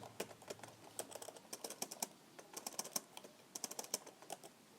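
Rapid, uneven typing on a computer keyboard while entering Java code, with quiet, crisp key clicks in bursts and short pauses, heard alone without talking.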